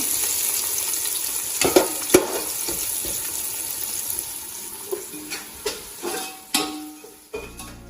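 Food frying in a pan for chicken dum biryani, with a soft steady sizzle broken by scattered clinks and scraping stirs that grow more frequent toward the end, close by and without talk.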